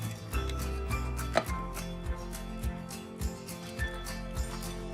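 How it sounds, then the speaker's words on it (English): A knife slits pointed gourds (parwal) one after another on a cutting board, giving a steady series of short, crisp taps against low background hum, close up with no talk. "Using a knife, give a slit in the middle of the parval."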